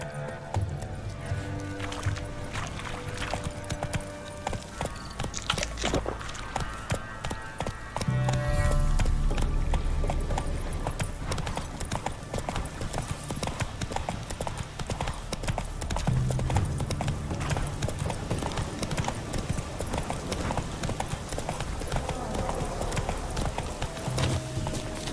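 Roach, the horse in The Witcher, gallops with rapid rhythmic hoofbeats over uneven ground, sometimes joined by a brief snort or whinny, loud and continuous under a game soundtrack and effects.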